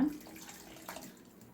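Water splashes and trickles briefly into a cooking pot of vathal kuzhambu (tamarind curry), a soft close pour that fades quickly.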